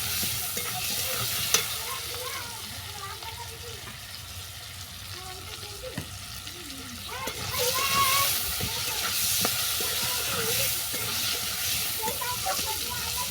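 Sliced cucumber with turmeric powder lightly frying in a pan, a steady sizzle and hiss with occasional stirring scrapes, growing brighter partway through.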